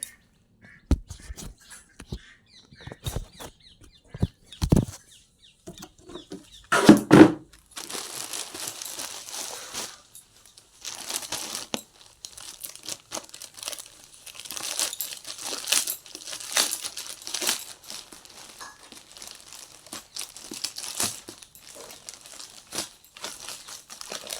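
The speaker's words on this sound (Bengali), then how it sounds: "চলো এটাকে আবার খুলে দেখবো কি আছে" A parcel is unwrapped and opened at home, with intermittent crinkling and rustling of plastic packaging, sharp tearing bursts, then a longer stretch of continuous crackling handling noise.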